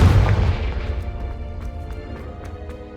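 A Confringo spell blast goes off in the video game Hogwarts Legacy: a single loud, close booming explosion at the start that rumbles and decays over a few seconds, with faint crackles in the tail.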